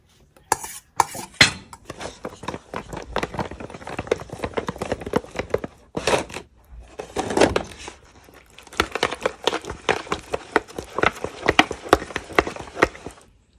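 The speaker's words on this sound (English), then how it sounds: "I'm gonna give the pan a little shake to make sure that everything is coated" A pan of turkey wings coated in orange barbecue sauce is shaken, giving repeated clattering metal scrapes and knocks in bursts with brief pauses, close and fairly loud, with no talking.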